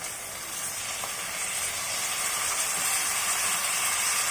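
Tomatoes dropped into a hot pan with fried green chillies for a South Indian mutton paya curry, giving a steady, broad hiss and sizzle that swells slightly and holds throughout, with no talk.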